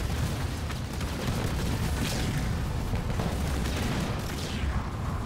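Turrets firing in Halo Wars 2, a dense steady rumble of distant booms and bursts that blend into a continuous roar, moderately loud and with no talk.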